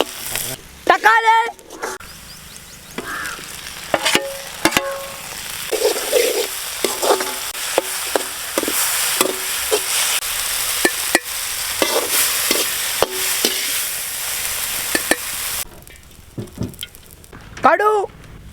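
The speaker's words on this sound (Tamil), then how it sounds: "வெங்காயம் தக்காளி வதக்கி எடுக்க எண்ணெய், கடுகு, உப்பு, வெங்காயம்," Onions and tomatoes sauté in hot oil with mustard seeds and salt for a village-style country chicken idli curry, with steady sizzling, stirring scrapes and occasional voices in the background.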